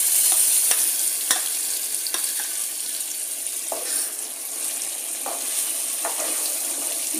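Tomato puree frying in a hot oil tempering for Telugu-style tomato pachadi, a steady close sizzle with intermittent scraping clicks of stirring throughout, no voices.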